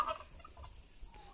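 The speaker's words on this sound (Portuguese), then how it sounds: "Ô, oh, peru" A turkey gobbles on a farm, faint and brief against low background rumble, with a short burst at the start and softer calls after.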